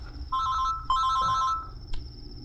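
An electronic phone ringtone chirps in two short bursts of bright tones, fairly close, followed by a brief beep and quiet hum.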